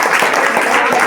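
Applause from a crowd at a high school prize event honoring a top-scoring student, a dense, steady wash of many hands clapping continuously, close and fairly loud throughout.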